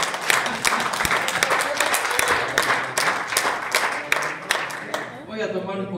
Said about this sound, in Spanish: Denle una palma de palmas al Rey.